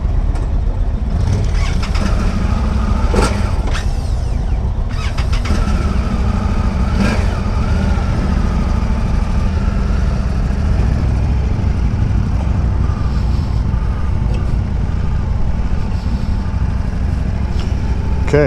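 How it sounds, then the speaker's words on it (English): An Indian Motorcycle Sport Chief RT engine fires up and settles into a loud, steady, close low rumble that continues throughout, with no talking. "Start the motor."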